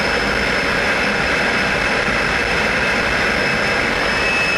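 A Lockheed T-33 jet engine idles at close range, a loud, continuous roar with a steady high-pitched whine running through it, unbroken from start to finish.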